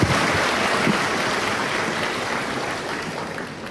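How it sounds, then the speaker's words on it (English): An audience at an open dialogue with the Malaysian prime minister at a Phnom Penh university breaks into a steady, dense round of applause, loud and sustained throughout, with no talking. "A round of applause."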